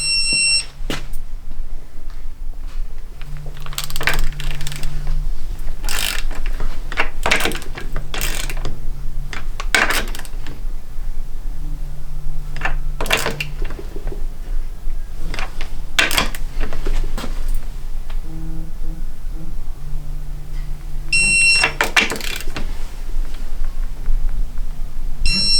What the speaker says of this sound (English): So I'll clamp her down, turn my torque wrench on.